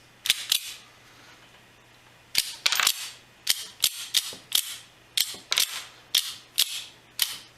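Repeated sharp metallic clacks from a homemade pistol being loaded and its action worked with no firing pin fitted, a close, loud burst of clicks followed by a steady series of single snaps, no voices.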